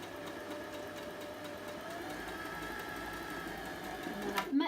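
A sewing machine stitches a fabric pouch filled with rice for a reusable heat or cool pack, giving a steady, close motor hum for several seconds that ends in a brief louder clatter.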